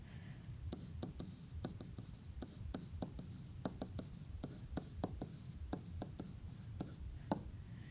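Pen or marker strokes writing out algebra by hand, a quick series of light tapping scratches in uneven rhythm, close and fairly quiet over a soft background hum, with no speech.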